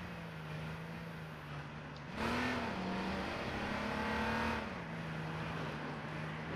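A police car in the video game H1Z1 drives with a steady engine hum that rises into revving around the middle, holds there, then settles back to a lower drone.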